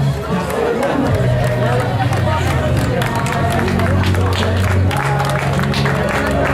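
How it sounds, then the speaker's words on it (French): A crowd cheering and clapping as runners reach the finish of a 15 km and 7.5 km road race, steady babble and applause with an announcer talking over it throughout. "Les acclamations pour accueillir Bernard Piou de l'association des coureurs"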